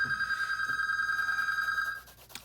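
A telephone rings steadily for about two seconds as one continuous bright electronic tone, fairly loud and alone, then stops abruptly.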